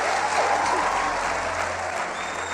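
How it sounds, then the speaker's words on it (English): An audience at a motivational speaking event applauds themselves in a loud, continuous burst of clapping, with a few cheers and whistles rising briefly over the crowd. "Give yourselves a round of applause."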